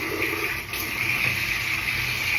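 Water from a tap runs in a steady, loud gush for a face rinse after makeup removal, continuous and unbroken with no talk over it.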